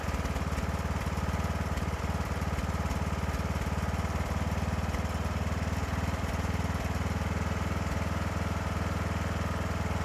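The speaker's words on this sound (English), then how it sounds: "Now I got the idle speed fairly close to where I want it." A small engine idles steadily and loudly, its even low pulsing continuous throughout while the mixture screw is fine-tuned after valve seat work, with no voices.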